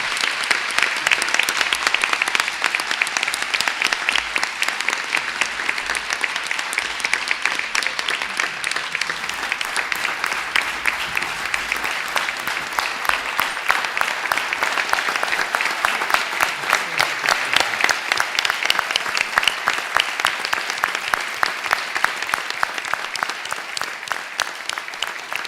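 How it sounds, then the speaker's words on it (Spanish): Sustained applause from an audience at an honorary doctorate investiture ceremony, steady and dense throughout, with no voices over it. "Renovamos el aplauso"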